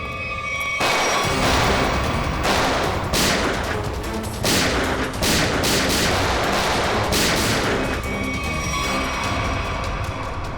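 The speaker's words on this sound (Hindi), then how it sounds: "अभी तो हमारा स्वागत गोलियों से हो रहा था" Gunfire rings out near a factory, rapid bursts of shots and fusillades repeating in clusters over about ten seconds, loud and close, then easing toward the end.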